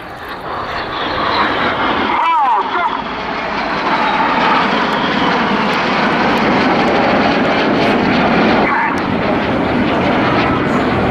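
Display jets roaring past at the Southport Airshow 2015, a loud continuous engine rush that swells and holds for several seconds with a brief dip early on, heard from the crowd line.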